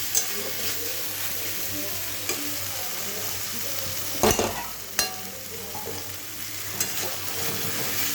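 Banana flower curry (mochar ghonto) sizzles steadily in a pan, a close, even frying hiss with a few soft knocks and stirring clicks scattered through it.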